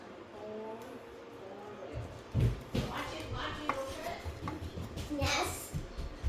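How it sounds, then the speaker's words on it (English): A knife cutting through a smoked pork chop: a few soft thuds and scraping cuts, close by, mixed with a child's chatter and other talk. "Now we're gonna cut the pork chop."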